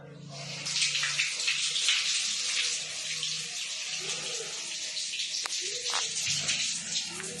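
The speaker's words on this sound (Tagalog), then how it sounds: "Makusog ka yung shower oh." Steady rushing water pours continuously, a broad hiss like a shower spray running close by, with a few faint voices underneath.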